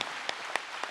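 Brief, faint applause from an audience at a large religious gathering, a soft wash of many hands with a few sharper claps standing out.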